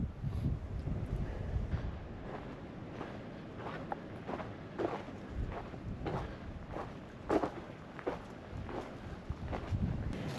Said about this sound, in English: right now with the wind swooping through here